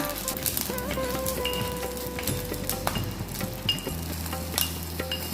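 Coconut curry bubbling and sizzling in a pan on the stove, a dense, steady crackle of simmering with scattered pops and spits throughout, close and without any voices.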